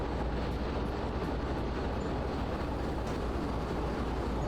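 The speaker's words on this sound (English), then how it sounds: "I need to be gentle on train brake to keep my speed" Steady rumbling rail noise from a train in the simulator game Derail Valley as the train brake is applied gently to hold speed, a continuous loud broadband roar with no clear squeal, heard alone.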